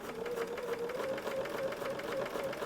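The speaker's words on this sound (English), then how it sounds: "I'm going to drop my needle, and then stitch over where I just stitched before" A home sewing machine stitches back over a quilting seam line with a quick, steady mechanical chatter and a constant hum. The sound is close and fairly quiet, with no voices.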